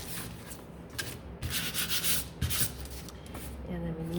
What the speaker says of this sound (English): I'm just gonna quickly sand